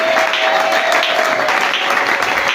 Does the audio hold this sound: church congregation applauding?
yes